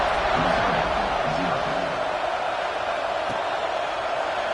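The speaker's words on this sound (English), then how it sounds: "this crowd is buzzing after that last score" A college football stadium crowd in NCAA 2K25 produces a steady, loud roar that holds at a constant level, with a commentator speaking over it.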